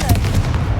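A Confringo blast spell cast in the wizarding game Hogwarts Legacy, heard as a dense, loud burst of explosive crackle and boom that lasts the whole short moment.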